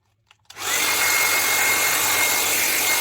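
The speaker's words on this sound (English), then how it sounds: "I'll just use my hair dryer." A hair dryer starts up abruptly and then runs at a steady, loud whooshing blow, drying Cricut cutting mats, with no talking.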